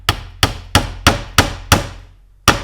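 Seven sharp hammer blows driving finish nails into Kato Unitrack model railway track, evenly spaced at first with a short pause before the last strike, close and loud with no talking.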